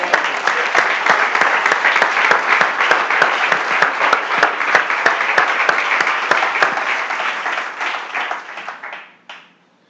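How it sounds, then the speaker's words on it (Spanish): Church congregation clapping together during a Spanish-language sermon, dense sustained applause with sharp individual claps standing out, holding steady and then cutting off abruptly near the end before a moment of quiet. "¿Por qué no le damos un aplauso al Señor?"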